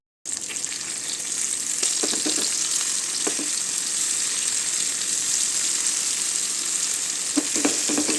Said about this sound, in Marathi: छान दोन्ही साईडून उलटून पालटून फ्राय करून घ्यायचं आहे मच्छी